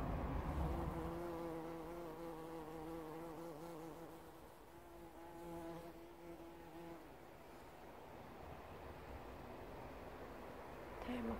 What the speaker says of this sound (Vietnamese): Với cả con ong nó đang hút mật của ong.